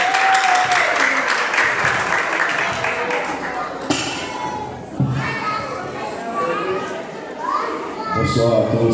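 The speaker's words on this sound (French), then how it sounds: "Merci pour votre applaudissement," Audience applause at a kindergarten end-of-year celebration in Massy, loud and continuous, mixed with children's shouts and crowd chatter throughout.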